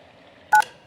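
A single short telephone keypad tone sounds once, clear and close, from a phone menu in the Kentucky Route Zero game, set against faint background hum.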